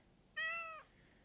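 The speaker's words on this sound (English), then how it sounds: "This Doyle the cat is like a magical girl or something?" A single clear cat meow from the Madoka Magica Magia Exedra video game, a short drawn-out tonal call lasting about half a second, heard alone and fairly close.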